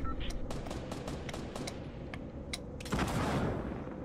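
Fortnite gunfire crackles in rapid repeated shots at middle distance, bursts scattered over a steady background rumble, then a heavier thud of fire near the end.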